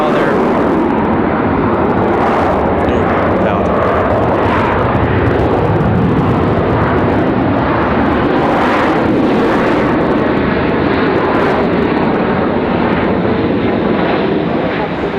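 An airliner departing from Raleigh Durham airport fills the air with a loud, sustained jet roar close by, holding steady throughout with faint sounds of people underneath.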